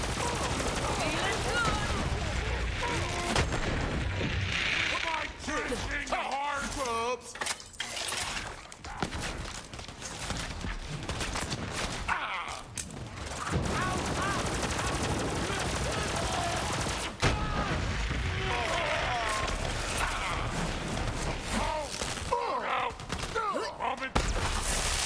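Rapid gunfire in Borderlands 3 on a prison break mission, bursts of loud shots and shattering impacts over dense game music and effects for most of the stretch, with a voice talking at times.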